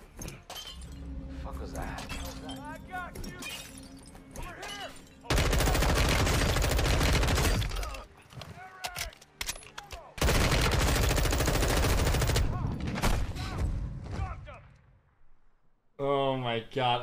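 Machine gun fire in the Call of Duty Modern Warfare 2 campaign, two long dense bursts of rapid shooting alongside excited talking, with quieter game sounds and voices in between.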